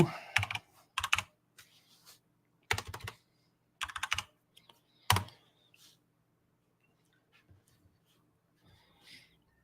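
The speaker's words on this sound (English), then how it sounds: "So I'm going to type in hello." Bursts of typing on a computer keyboard, several quick clusters of keystrokes close by with pauses between them, then fading to scattered faint clicks; no talk.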